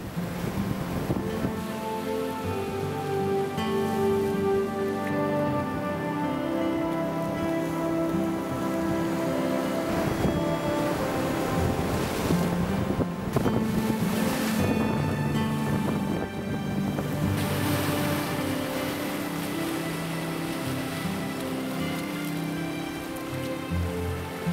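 Surf breaking against a rocky Galápagos coastline, a continuous loud wash of churning water and spray that swells and ebbs without pause, with no voices.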